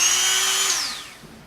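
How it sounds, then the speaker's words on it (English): A Dremel 100 rotary tool whines at high speed, close and steady, then its pitch drops as it spins down after power is cut, with no other sound. "This is a Dremel 100 rotary tool."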